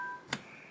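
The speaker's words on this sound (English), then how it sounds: "Sorry, that's my phone." A mobile phone gives a brief electronic tone that fades, followed by a single sharp click, quiet and close by.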